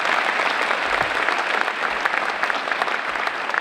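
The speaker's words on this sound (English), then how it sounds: "Let's give them a round of applause." A dense, steady round of audience applause for the MCs fills the room at an awards event, continuous and fairly loud from start to finish.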